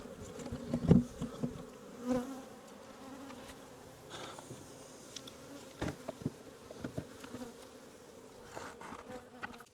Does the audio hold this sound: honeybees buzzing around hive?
yes